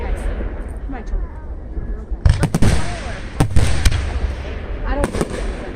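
Fourth of July fireworks in Swanton, Ohio, a series of sharp booms and crackling bursts at moderate distance over steady outdoor crowd murmur, with several loud reports spaced a second or so apart.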